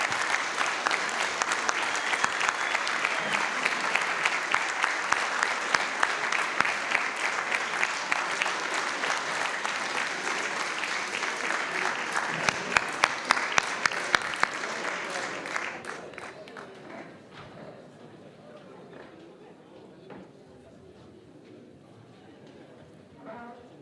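Loud, sustained applause from an audience at a municipal council meeting in Marly fills most of the stretch, then drops away to a quiet room with faint murmurs.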